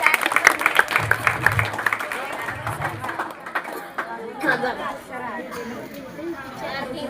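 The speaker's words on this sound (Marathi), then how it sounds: "खूपच छान. टाळ्या वाजवा लेकरासाठी." A school audience at a National Mathematics Day event claps for a student after her model is shown, with short bursts of applause mixed with loud chatter and a voice talking over the crowd.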